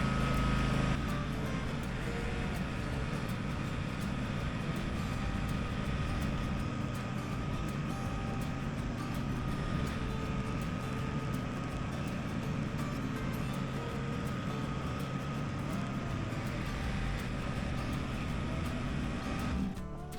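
A John Deere X350 lawn tractor engine runs with a steady, continuous low drone nearby for about twenty seconds, fairly quiet and even throughout with no voices.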